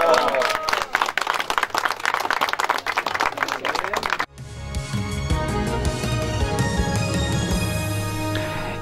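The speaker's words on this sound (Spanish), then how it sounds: "¡Un aplauso!" A burst of scattered, crisp hand clapping from a small group lasts about four seconds, then cuts abruptly to loud music that fills the rest.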